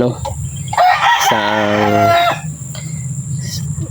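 A rooster crows loudly once, a long rising-and-falling call close by, with faint background noise before and after.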